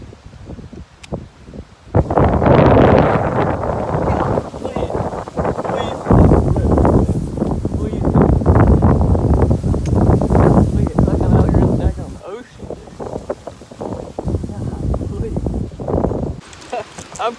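Strong wind gusting across a lake during kayak fishing, a loud roaring buffet on the microphone that surges and eases over several seconds, with a person talking underneath.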